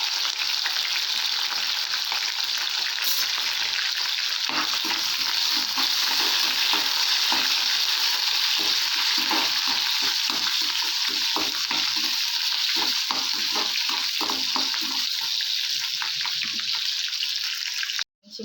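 Green chilies and curry leaves frying in a pan, a loud continuous crackling sizzle with dense popping and spitting, sustained and close until an abrupt stop at the end.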